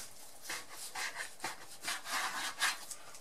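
A knife saws through meat being cut for shashlik skewers, a series of soft, rhythmic rasping strokes close by, about a half dozen in quick succession with no talk over them.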